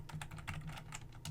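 Fast, steady clicking of a computer keyboard as network configuration commands are entered, a close, quiet run of keystrokes with no voices.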